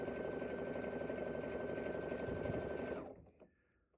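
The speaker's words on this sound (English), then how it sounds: "I'm just going to guide the fabric and allow the machine to do the work for me." A sewing machine stitches fabric with a steady, close, whirring hum that runs evenly for about three seconds and then stops abruptly, leaving near silence.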